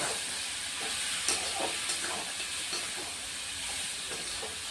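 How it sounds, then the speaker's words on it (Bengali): Mutton sautéing with ginger and garlic paste in a pan for a Bengali-style mutton curry with potatoes, a steady broad sizzle with occasional stirring scrapes, close and continuous, with no talking. "আদা বাটা দিয়ে দিচ্ছি রসুন বাটাও দিয়ে দিলাম দিয়ে এখন আবার কষিয়ে নিব"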